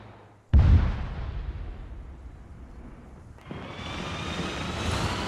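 A tank turret cannon in Arma 3 fires a single heavy, booming shot with a long rumbling tail, then a rising mechanical whine and hum fills the rest.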